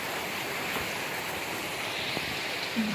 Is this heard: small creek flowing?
yes